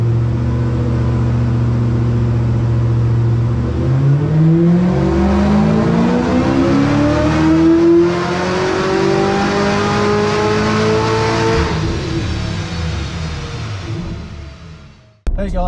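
Car fitted with a new Magnuson Magnum supercharger revs hard on a dyno, droning steadily before the pitch climbs in a long rising pull, then cuts off abruptly, loud and close.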